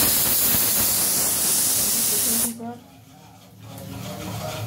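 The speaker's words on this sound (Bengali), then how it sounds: "সাউন্ড করছে। গার্লিকটা ঠিক ফ্রাই করে নেব।" Garlic hits hot oil in a home kitchen and sizzles as a loud, dense hiss, which suddenly drops to a quieter crackle midway before building again, with a voice faintly present.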